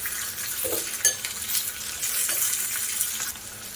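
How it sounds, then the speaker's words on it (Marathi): Finely chopped onions fry lightly in a pan with a soft, steady sizzle, broken by a few sharp clinks of stirring against the metal, close and clear with no talking. "ते पण आता याच्यामध्ये घालून कांद्यांना पण थोडंसं हलकंसं फ्राय करून घ्यायचं आहे"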